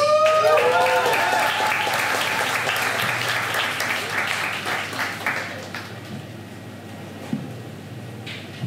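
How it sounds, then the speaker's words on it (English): Audience applause at a community night event, a dense wash of many hands clapping that is loudest at the start and gradually thins and fades over several seconds. "Another round of applause for Ridhima, please"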